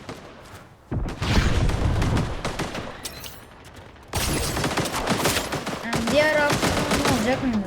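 Bursts of automatic gunfire and heavy shots from a Fortnite Blitz Royale match, loud and dense, with a quieter gap before a second intense barrage near the end.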